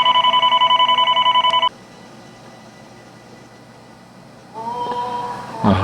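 A telephone rings loudly in a rapid electronic warble that stops after about a second and a half. Quiet room noise and then faint speech follow.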